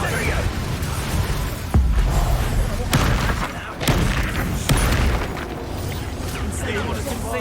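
A Confringo blasting spell explodes in the video game Hogwarts Legacy, with several sharp booming bursts over a busy, noisy battle background.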